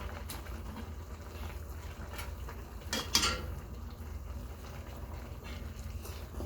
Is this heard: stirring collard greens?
yes